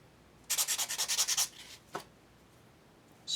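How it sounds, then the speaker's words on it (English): Sanding a soft wood lid inset down to a marked line: a quick run of about nine rhythmic, close scratchy strokes, then a pause and a single short rub, followed by the start of another stroke. "This wood is very soft and it will only take a few minutes to sand it down right to the line."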